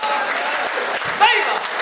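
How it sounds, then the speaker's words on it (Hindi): A crowd at a comedy show applauds with dense, steady clapping that fills the room, and a voice may be audible beneath it. "पूरा सदन दोनों हाथ उठा करके एक बार बजाए"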